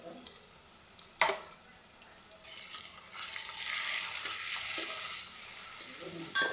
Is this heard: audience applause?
no